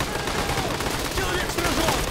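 Gunfire in the Army Men of War video game forms a steady, dense crackle of overlapping shots, loud and unbroken across the whole stretch like a distant fusillade.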